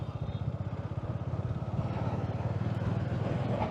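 Motorcycles riding along a road near Bengaluru, a steady engine drone with a rapid pulsing rhythm that holds close and fairly loud throughout, with wind rush over it.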